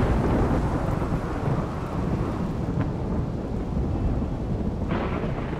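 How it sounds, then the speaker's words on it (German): Rolling thunder from a lightning strike during a storm in RimWorld, with a loud, dense and continuous rumble and a brighter crack near the end. "Und schon wieder ein Blitzeinschlag."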